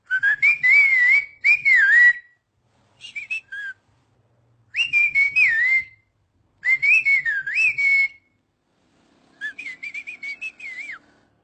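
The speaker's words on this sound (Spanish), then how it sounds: "Inclusive ahorita puedo hacer un chiflido hacia mi primo que se encuentra allá afuera" A loud, piercing whistled call used for long-distance communication, made in several separate bursts of gliding, warbling whistles with short pauses between them, clear and close with no talk.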